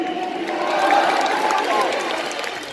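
A stadium crowd at a Krasnodar football club open training session claps and cheers, a broad roar of applause and shouting that swells and holds, with a voice calling out over it.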